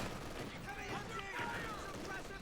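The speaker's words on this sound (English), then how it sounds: "Grenade going in? Yeah, grenade going in." Battle noise in the World War II strategy game Company of Heroes 2 with a thrown grenade, rattling gunfire and muffled blasts under a voice commentating over the fight.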